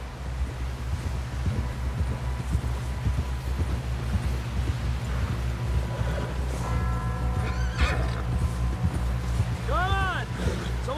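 A horse gallops with rapid rhythmic hoofbeats in Red Dead Redemption 2, then lets out a loud whinny near the end, while voices talk over the ride.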